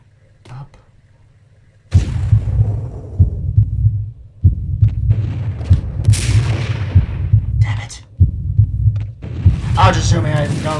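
Gunfire in the shooter Max Payne, a run of heavy booming shots and thuds in irregular bursts after a quiet start, loud and close, with a voice speaking briefly among them.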